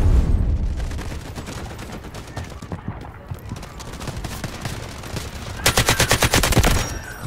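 Gunfire in Delta Force: Hawk Ops, with scattered shots and busy battle noise building to a loud, fast automatic burst near the end, a voice speaking faintly underneath.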